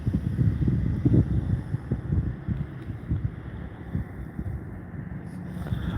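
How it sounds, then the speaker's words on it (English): Gusty wind on a breezy, cold day buffets the microphone while out on a bike, a rough, uneven low roar rising and falling in waves with no voices. "It's a breezy, cold day with a little sun trying to poke out."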